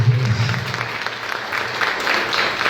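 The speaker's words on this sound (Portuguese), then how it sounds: "Vamos aplaudir Jesus." Steady applause from a congregation at a Catholic healing Mass, a dense wash of clapping that holds at an even level throughout.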